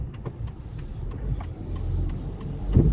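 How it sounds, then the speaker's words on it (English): Road traffic heard while riding, a continuous rumble of passing car and engine noise that swells and fades, fairly close, with no talking. "Holy crap, there's a lot of traffic."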